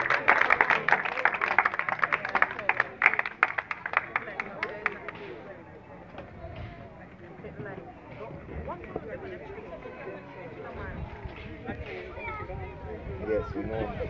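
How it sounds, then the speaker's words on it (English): Applause at a spelling bee, a round of clapping from the audience that starts strong then thins out, with crowd chatter and voices mixing in as it fades. "Give our next round of applause"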